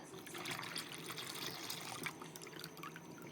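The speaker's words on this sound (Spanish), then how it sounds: "Empezamos echándole el litro de leche al recipiente." A litre of milk poured into a container, a soft continuous liquid trickle and splash heard fairly quietly and close, with no talking.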